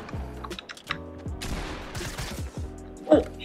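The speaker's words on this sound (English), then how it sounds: "There's another guy trying to shoot at me." Video game gunfire crackles in rapid bursts near the listener, with a separate louder shot near the end, under the excited chatter of a player.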